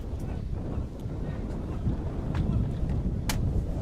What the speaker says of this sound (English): It's pretty windy down here at the Steve Woodcock Sports Centre.